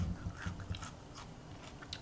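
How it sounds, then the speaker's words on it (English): Crunchy bites into a homemade lime pickle cured with alum, several quick crisp crunches and chewing sounds close up at a steady rhythm, with no talking. "Hear that crunch?"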